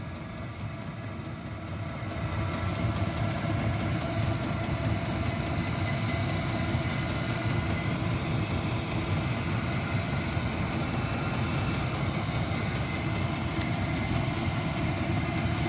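A portable 8000W heater runs at full throttle, giving off a steady, dense mechanical roar with a rhythmic rattling texture that steps up in loudness after a couple of seconds and then holds constant, close by.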